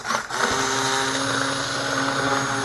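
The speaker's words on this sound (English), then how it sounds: "let's get this blender going" A blender purees vegan butternut squash soup sweetened with maple syrup. A loud, steady motor whir runs continuously after a brief start-up surge, with no talking.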